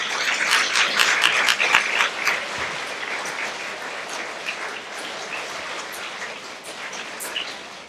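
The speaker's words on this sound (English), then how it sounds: "Let us clap for our teachers." Children at a Class 3 school forum applaud their teachers, dense clapping that is loudest at first and then thins out, with no talking.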